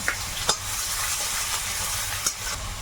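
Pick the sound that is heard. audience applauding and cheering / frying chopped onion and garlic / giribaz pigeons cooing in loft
frying chopped onion and garlic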